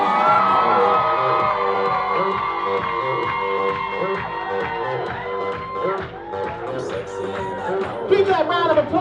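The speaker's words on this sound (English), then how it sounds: "Keep that round of applause going as they take it through the archway for us." Wedding guests cheering, whooping and applauding as the newly married couple walks through an archway at a country club reception, with music playing underneath and a steady, lively crowd roar.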